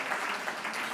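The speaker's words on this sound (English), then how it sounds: "you can clap for Chris, that's a lot of work" Dense, steady applause from an audience at a city address, honoring golf pro Chris Cartwright, a continuous wash of many hands clapping at moderate volume with no voices.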